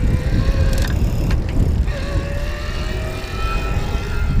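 A first-generation Bosch Centerdrive mid-drive e-bike motor on a Haibike Cross EQ runs in speed mode, giving a steady electric whine whose pitch rises as the bike gains speed, over continuous rolling and wind noise, with no talk.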